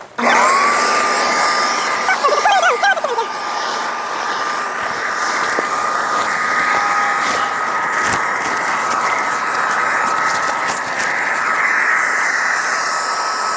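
An electric air pump inflates a camping air tent with a continuous loud whooshing drone that starts abruptly and holds steady throughout, close by and alone.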